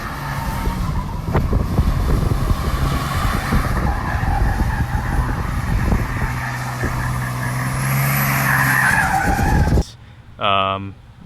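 A pickup truck spins donuts, engine roaring with tires skidding and squealing on the surface, loud and close for most of the stretch before cutting off abruptly, followed by a brief voice.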